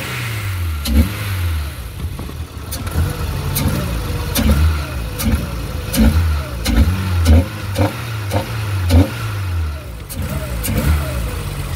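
A Nissan Sentra engine runs steadily close by, rising and falling in repeated revs over a low idle with sharp clicks on top; a voice speaks briefly beneath it.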